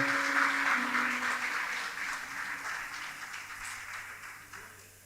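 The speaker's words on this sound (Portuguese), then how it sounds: "E você aplaude ao Senhor bem forte" Broad applause from a church congregation, strongest at the start and slowly tapering off, a soft steady wash of many hands clapping at a middle distance with a faint held tone early on.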